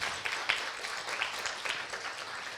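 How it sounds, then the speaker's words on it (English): An evening industry event audience claps in a fairly quiet, scattered round of applause, with individual claps standing out over a soft, steady patter. "So give those guys a round of applause."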